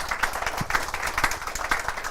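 Quiet, scattered applause from a small audience at an astronomy festival talk, individual claps loosely rhythmic and faint, with no speech over them.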